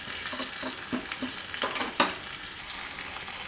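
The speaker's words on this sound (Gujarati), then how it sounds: "એટલે આપણે આ રીતે વઘાર કર્યો એનો." Cumin, garlic and spices sizzle steadily in hot oil for a tempering for bajra raab, with a soft continuous frying hiss, a few faint stirring clinks, and a brief louder crackle near the end.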